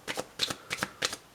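Oracle cards being shuffled for a card reading, three quick riffling bursts, each a pair of soft papery flutters, close and fairly quiet with no talk.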